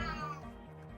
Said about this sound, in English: the cat's been fucking howling at me for fucking all day.